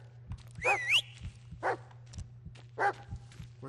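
Bullet, a dog in the game Blair Witch, gives a few sharp, close barks and yips in short bursts with pauses between, over a steady low hum.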